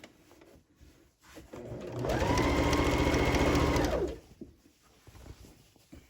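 A sewing machine stitches the waistband casing of a pair of pants in one loud, steady run of about two seconds, with quieter handling noise before and after.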